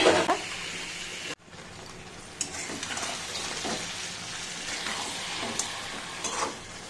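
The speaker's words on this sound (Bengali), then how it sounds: "এটা মশলাটার সঙ্গে কাঁকড়াটা ভালো করে নেড়ে চেড়ে কষাবো" Crab being stir-fried with ginger-garlic paste, green chili, salt, turmeric, cumin and coriander powder, a soft sizzle under intermittent scraping stirs, fairly quiet and close, with a brief sharp cut partway through.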